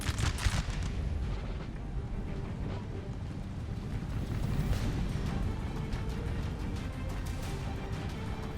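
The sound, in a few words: musket and artillery gunfire in video game Napoleon Total War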